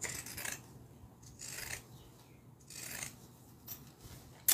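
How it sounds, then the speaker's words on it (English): Pinking shears snip straight across a fabric seam allowance, several crisp close cuts in an uneven rhythm, with rustling cloth between them. "I'm going to use my pinking shears and do that"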